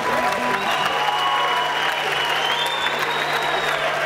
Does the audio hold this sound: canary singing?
no